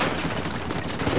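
Rapid gunfire crackles in a short, loud burst during a shootout in Uncharted 4: A Thief's End, a steady volley with no clear speech.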